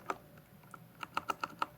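A mechanical keyboard with brown switches typed on in a quiet room, about eight crisp, clicky keystrokes in an uneven rhythm, close and alone.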